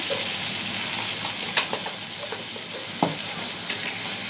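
Spice masala with salt and turmeric being stir-fried in a pan for a Bengali fish curry, a steady sizzle with a few sharp spatula knocks and scrapes against the pan.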